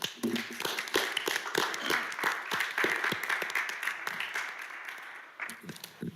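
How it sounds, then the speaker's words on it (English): Meeting attendees at a Little Rock city board meeting break into steady applause, a dense patter of many hands clapping at moderate distance for several seconds before tapering off, with a few voices murmuring underneath. "So I just want to give them a round of applause."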